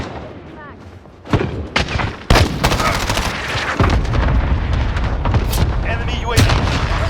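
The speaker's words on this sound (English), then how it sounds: "Enemy cluster strike" Cluster strike explosions from a video game shooter: a quiet start, then a rapid series of loud booms and blasts that build into continuous heavy rumbling, with some talk mixed in.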